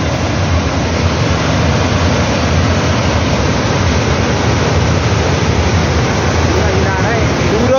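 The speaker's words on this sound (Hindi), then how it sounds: "ये देखिए जाते हुए सारा मलबा" Debris-laden floodwater rushes past in Kinnaur, Himachal Pradesh, a loud, constant broadband roar with no letup throughout.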